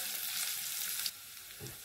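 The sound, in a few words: green onions sizzling as they are added to the pan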